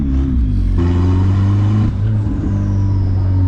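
A Mazda Miata engine warming up, with no thermostat fitted, holds a steady nearby hum, then rises briefly in pitch as it revs and settles back, heard on its own without talk.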